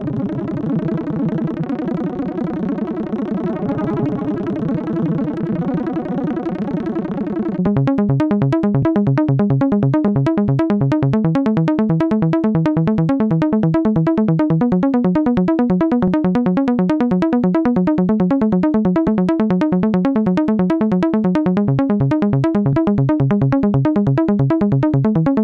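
A synthesizer patch plays first as a sustained, dense distorted tone, then switches to a pulsing, rhythmic sequence of bright, buzzy notes, comparing Zebra and Spire envelope shapes, loud throughout with no voices.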